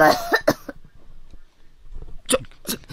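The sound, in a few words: Miss Yui coughing wetly in video game Corpse Party Book of Shadows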